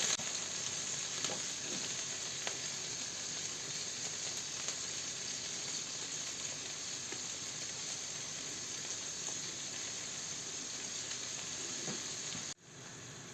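Varenyky dumplings fry in butter with mushrooms in a pan with a steady, close sizzle and crackle, a few soft stirring scrapes, and no talking.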